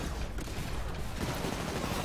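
Sustained heavy gunfire from a Titan in Titanfall, a dense, continuous rattling barrage that stays loud and unbroken throughout.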